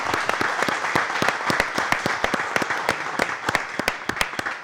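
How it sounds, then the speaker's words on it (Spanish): Studio audience applauding loudly at a TV show's eleventh-anniversary celebration, a dense steady burst of many hands clapping with sharp individual claps standing out, continuing without pause. "Y un fuerte aplauso para La Rocola, que está en sus 11 años"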